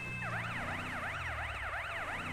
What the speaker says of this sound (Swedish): Vi ska slänga av oss sirenerna